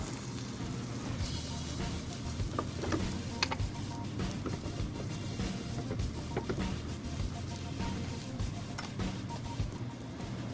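Ham and cheddar omelette frying in a pan, a steady dense sizzle with scattered small crackles and ticks running continuously at moderate loudness, with no talk over it.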